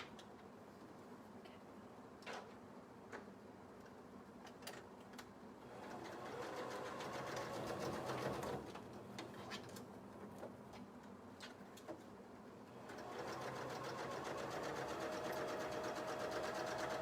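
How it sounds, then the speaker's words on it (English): A sewing machine stitches a drawstring channel through two layers of petticoat fabric, its steady whirring rising in two longer runs amid soft handling noises, fairly quiet and close. "now I'm going to sew along the blue line to create my drawstring channel"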